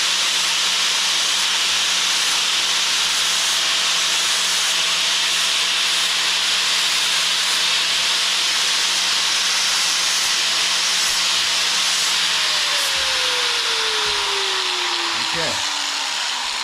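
Spray paint hisses steadily and loudly onto a 1981 Huffy bike frame close up, one unbroken spray for the whole stretch, with a faint tonal whine sliding down near the end and a voice in the background.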